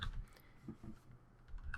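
Typing on a computer keyboard in a Hammer level-editor console session: a few soft, scattered key clicks over about two seconds, faint and close, with no voices.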